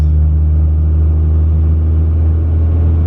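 A turbocharged second-generation Cummins diesel pickup truck cruises a country road with a deep, loud, steady rumble, a continuous low drone heard up close with no talking.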